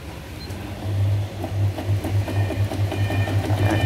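A Singer Newve sewing machine stitching a zigzag pattern: a close, steady motor hum carrying fast, regular needle pulses that keep a tight rhythm from start to finish, with no talking.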